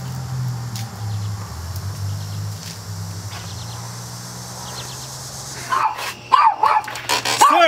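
A dog barks several times in short sharp bursts near the end, after a stretch of low steady hum and quiet background, fairly close.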